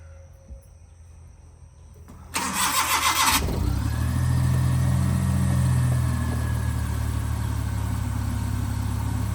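A vehicle engine cranks briefly with a rattling starter, catches and settles into a loud, steady idle close by as the vehicle is taken out.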